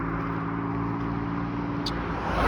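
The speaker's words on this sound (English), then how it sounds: "you can see all the cars coming this way" Cars on a road near the scene of a two-car collision make a steady, loud engine and tire rumble as traffic passes close by, with no talk.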